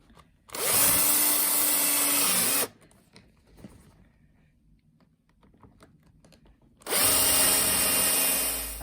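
Power drill whirring in two sustained bursts, driving screws into the interior trim of a Tesla Model 3 during an ambient light install, with quiet handling noise between the runs.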